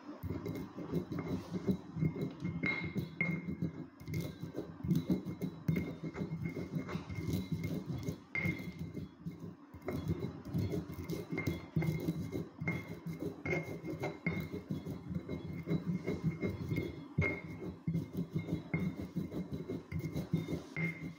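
A stone mortar and pestle grinds coriander seeds and pepper up close, producing a continuous, rhythmic gritty rasping with scraping strokes and occasional sharp stone clicks, with no voices.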